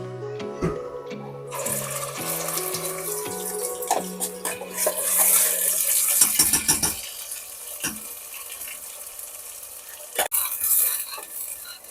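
Masala hits hot oil already seasoned with bay leaf for mint pulao, giving a loud sizzle and stirring that swell midway, with a few tonal clinks early on and scattered scrapes toward the end.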